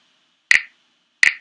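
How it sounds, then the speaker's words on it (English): Two crisp finger snaps from a sound-effects library, about 0.7 seconds apart, each a sharp, close, bright click with a quick decay, set against silence with no talking. "See a finger snap."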